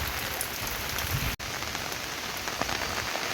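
Heavy rain pours on surfaces beside a flooded river in the Konkan, a dense loud continuous patter and hiss with a brief cut midway, no voices.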